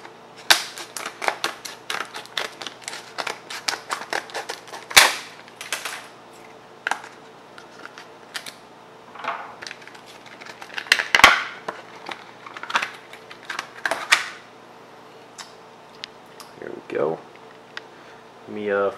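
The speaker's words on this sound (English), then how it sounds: "I use some scissors to cut this open" Scissors snip and cut open rugged plastic packaging holding a butane torch insert, giving a run of sharp close clicks and crinkly crunches in irregular bursts, with brief rustling between cuts.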